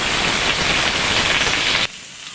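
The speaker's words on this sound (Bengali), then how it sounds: "ঝিঙ্গাগুলোকে আমরা খুব ভালোভাবে ভেজে নেব" Sliced ridge gourd hits hot mustard oil in a pan, giving a loud, steady sizzle and crackle that drops abruptly to a quieter hiss near the end.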